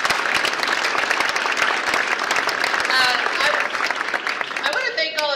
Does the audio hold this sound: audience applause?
yes